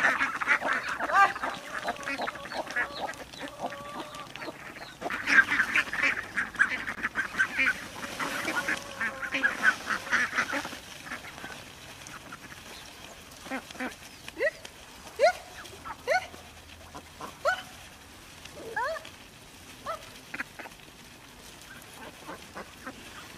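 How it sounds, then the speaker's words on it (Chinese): A flock of farm-raised ducks at a fish pond, being fed, quacking in an excited, dense chorus that later thins into scattered individual calls, close by and fairly loud. "现在来鱼塘这边喂下鸭子，这些鸭子都疯了"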